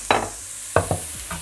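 Onion and carrot stirred in a frying pan, with three distinct scraping strokes over a steady low sizzle, close and fairly loud.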